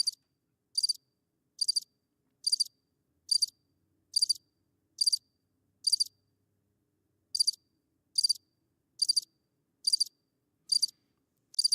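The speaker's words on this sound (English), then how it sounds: "you're going to hear crickets." A crickets chirping sound effect: evenly spaced, high-pitched trilled bursts repeat steadily about twice a second, with one short pause partway through, heard alone and fairly quiet with nothing else around them.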